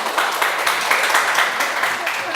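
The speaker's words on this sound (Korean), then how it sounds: "교수님 박수 소리가 있으니까 참 좋죠" A studio audience claps in a lively, close round of applause that lasts for a couple of seconds, and voices are heard through it.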